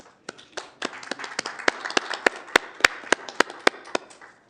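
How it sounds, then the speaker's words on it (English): A small group at a city council meeting claps in a brief, sparse burst, with separate sharp hand claps close by that build quickly and then trail off. "That's worthy of a clap"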